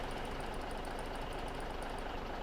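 Tractor engine idling in Farming Simulator 17, a steady, even mechanical drone at constant level that runs unbroken and alone, with no talk over it.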